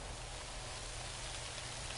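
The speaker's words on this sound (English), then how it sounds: "Oh, look, it's raining." Rain in the Prison Architect video game, a steady, even wash of falling rain that holds at a constant level throughout with no talking.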